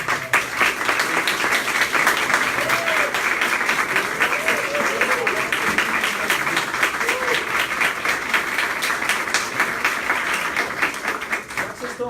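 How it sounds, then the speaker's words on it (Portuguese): An audience at a lecture breaks into sustained applause, a dense and steady patter of many hands clapping at close range that carries on for the whole stretch before easing slightly at the end. "Vocês estão aplaudindo,"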